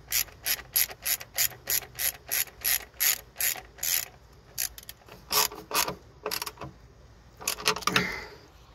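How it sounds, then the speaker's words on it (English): Ratchet wrench clicking close up while spark plugs are tightened down on a 2018 Ford F150 with the 2.7 EcoBoost engine: a steady run of sharp, rhythmic clicks, then a few slower, more irregular bursts, with no talking. "When I tighten these down, I keep my grip all the way to the rotational point"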